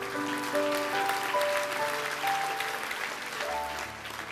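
A church congregation applauds during a sermon, a steady wash of clapping that carries on under sustained keyboard tones throughout.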